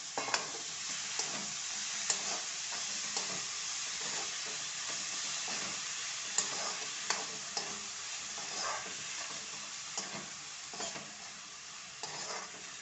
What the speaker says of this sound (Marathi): तर त्याच्यावरच मी हे कांद्याची पात टाकते